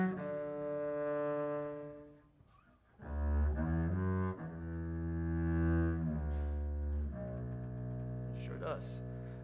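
A spruce-topped, maple-backed bass junior built in 2021, likely a small upright bass, plays a slow, deep bowed phrase of sustained notes that rise and fall, heard alone and up close.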